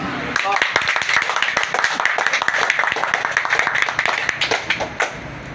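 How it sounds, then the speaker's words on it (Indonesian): Applause at an organization's meeting in Bekasi, with distinct close claps from a modest crowd in an irregular rapid patter that fades toward the end. "Tepuk tangan"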